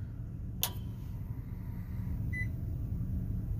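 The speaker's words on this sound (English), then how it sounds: "That beep was the microwave turning on." A microwave oven gives a single short, thin electronic beep as it switches on, heard over a low, constant hum, with a faint click earlier and no talking.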